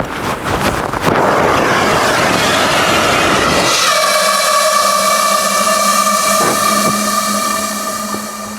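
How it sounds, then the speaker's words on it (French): An avalanche airbag backpack inflates with a loud rushing whoosh of air for several seconds, then settles into a steady hiss with sustained tonal whine, close and continuous. "Donc pour déclencher un sac airbag"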